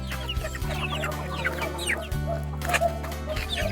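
Pet chickens on a rural property in La Union cluck and chatter close by, with short overlapping clucks over a steady low mechanical hum and no human voices.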